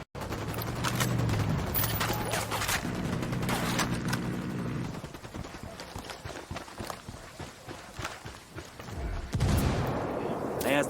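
Apache helicopter gunfire in Ghost Recon Wildlands, a dense rattling barrage of rapid shots with rumbling impacts that goes on throughout and swells near the end.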